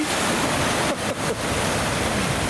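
Continuous rushing splash as a police car drives through deep floodwater up to the bonnet, a broad wash of spray steady throughout with a couple of brief dips near the middle.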